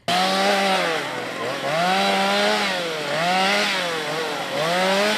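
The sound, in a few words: chainsaw cutting down lemon trees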